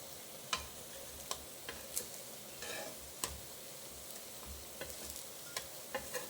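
Ridge gourd slices frying on a tava in a little oil, a quiet steady sizzle broken by scattered sharp ticks and clicks of the turning utensil, with no talk.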